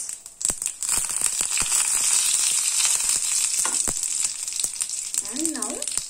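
Mustard seeds, urad dal and curry leaves sizzle and crackle steadily in hot oil, a loud continuous hiss broken by sharp pops and spits, with a brief voice-like squeal near the end.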